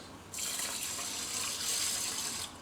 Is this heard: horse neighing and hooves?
no